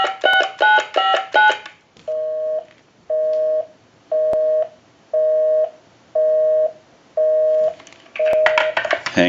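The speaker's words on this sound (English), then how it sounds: "we can hang up, give you some dial tone. We'll call my number and it'll be busy." A Western Electric Trimline telephone being repaired plays a burst of rapid DTMF dialing tones, then a steady run of evenly spaced busy-signal beeps, then more dialing tones at the end. All sounds are clear and close, with no talk.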